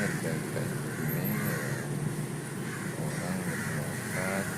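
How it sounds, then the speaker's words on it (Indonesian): Crows in Indonesia cawing at a steady, fairly loud level, with calls layered over one another and blended with chatter and background noise throughout. "gagak itu udah di mana-mana"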